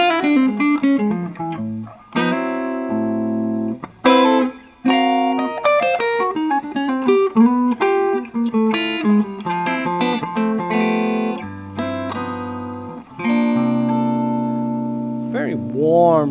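A Carvin FG1 electric guitar with light distortion plays a fast, dense run of melodic notes and chords, loud and close, with long sustained tones and brief pauses, no voices over it.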